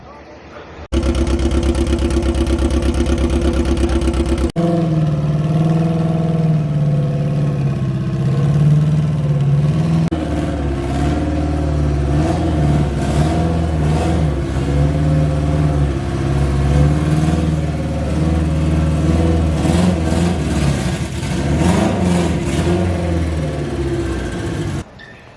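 A fully built 1,000hp Mitsubishi Evo X engine fires up for the first time, a short harsh burst giving way to a loud, steady idle with rising and falling revs throughout, nearby and continuous.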